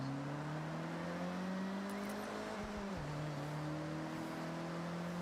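In the racing game Forza, a car engine drones at a steady pitch, dips briefly as if shifting or lifting off, then resumes its even hum at a moderate, constant level.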